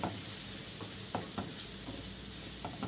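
Mixed spices stirred into a frying pan while cooking cabbage mahshi, giving a steady broadband sizzle with soft scattered scraping taps from the spoon, alone and fairly quiet.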